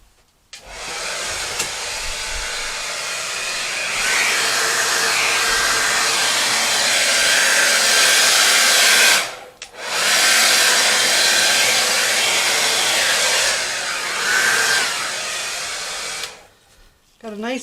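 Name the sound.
hair dryer blowing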